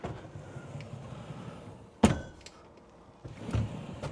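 A pocket door in a 2023 Rockwood Mini Lite travel trailer's bedroom slides shut with one sharp thunk, followed by a fainter rolling slide and a second soft knock against a quiet interior background.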